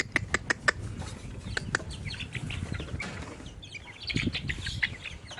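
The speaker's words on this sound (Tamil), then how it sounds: "ஸோ பார்த்தீங்களா தக்காளி எவ்வளோ அழகாக சாப்பிடுதுன்னு." Backyard chickens peck at tomatoes close by, with a quick series of sharp taps early on, soft clucks and brief wing flutters, then scattered pecking toward the end.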